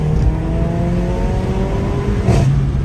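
A turbocharged car accelerates hard, its engine droning loud and close from inside the cabin with rising whine tones, and a brief whoosh near the end.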